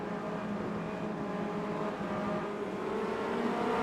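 A tight pack of Formula Renault race cars running together in a circuit race: a steady, dense engine roar that holds at an even, loud level throughout, with no voices.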